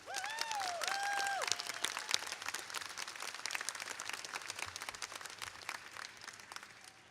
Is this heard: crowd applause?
yes